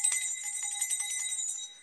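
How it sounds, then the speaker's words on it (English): A bright, jingling bell sound effect plays during a TikTok live stream, a continuous shimmering ring of rapid small strikes lasting close to two seconds before tailing off. "We got the freedom bell."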